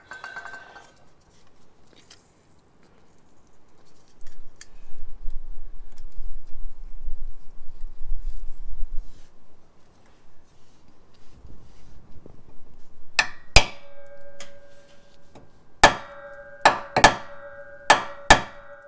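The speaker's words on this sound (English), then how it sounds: "We're gonna remove some rust here. The bolts don't look too bad." Work on a Land Rover Discovery air suspension reservoir tank, heard as a low rumbling scrape, then several sharp metallic clinks and taps in a loose series near the end, close and loud with no voices.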